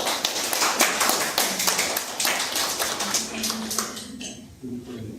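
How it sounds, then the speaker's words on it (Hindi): Audience clapping at an IHRCCO media briefing, a dense patter of hand claps that stays steady and then thins out toward the end, with a faint voice under it. "बहुत बहुत तालियां"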